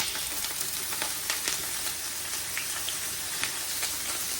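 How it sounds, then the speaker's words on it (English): Sausage searing in oil in a skillet crackles with a soft, steady sizzle and scattered popping spits, fairly quiet and close, without speech. "I'm just gonna place some oil in my pan and start searing off my vegetables. I'm going to start with my sausage"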